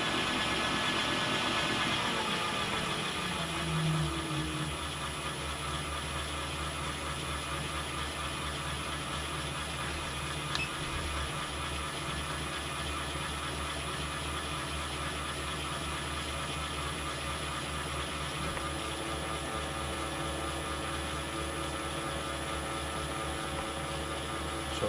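Scratch-built horizontal model steam engine turning slowly in a workshop, a steady low mechanical hum and faint rhythmic running noise continuing evenly throughout, with no talking.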